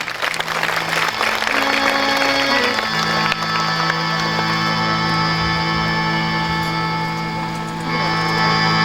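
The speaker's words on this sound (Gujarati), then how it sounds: "તાળીથી વધાવી દઈશું." An audience at a Gujarati religious discourse gives loud, sustained applause with crowd noise, dense clapping filling the whole stretch with no speech.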